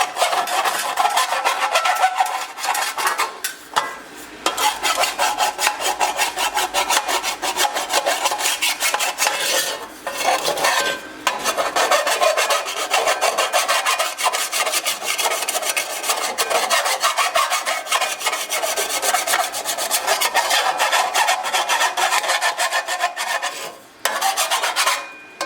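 A hand file rasps a burr off the back of a custom bespoke silencer for a BMW R80/R100 ISDT-style exhaust, with steady, close, repeated filing strokes and brief pauses throughout.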